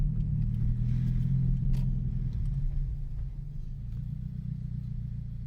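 A car engine rumbles loudly with a deep, throaty exhaust through a Supertrapp exhaust in loud mode, rising briefly as the throttle is blipped, then settling into a steady idle.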